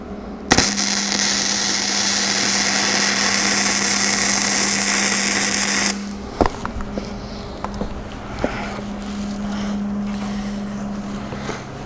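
Welder laying a short bead on a boxed frame gives a steady, loud crackling hiss that runs for several seconds and then cuts off, leaving a lower background hum and a few scattered clanks.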